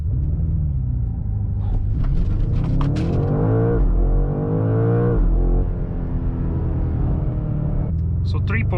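A BMW M5 with a small gear lever revs and pulls hard through an acceleration run, its engine note rising and dropping across shifts, loud and close, with people talking over it.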